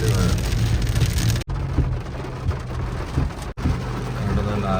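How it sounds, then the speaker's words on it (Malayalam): Heavy rain pouring down in Bangkok, a dense steady hiss of drops hitting surfaces with a low rumbling undertone, loud and close, briefly cut out twice. "പക്ഷെ ഭയങ്കര മഴയാണ്"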